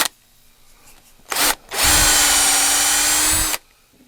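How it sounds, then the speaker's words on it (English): Power drill spinning a cork fishing rod handle while it is shaped: a brief whirring burst, then a sustained loud high-pitched whine with gritty rubbing for about two seconds before cutting off, no talk over it. "If you got the drill like this"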